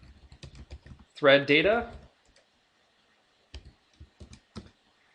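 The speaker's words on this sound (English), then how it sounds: "I'm going to click in this first cell here and type in external" Rapid clicks of a computer keyboard being typed on come in short bursts, close and fairly quiet, with a brief spoken phrase between them.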